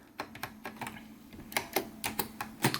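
Fingers tap out a run of uneven clicky keystrokes on a Xerox 6085 Daybreak workstation keyboard, close and fairly quiet, with no talking.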